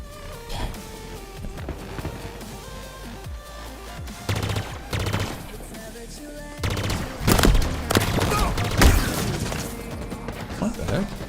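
Cinder shot weapon firing in a video game, a burst of rapid gunfire cracks and bangs loud near the end of the stretch, with game noise and a voice speaking around it.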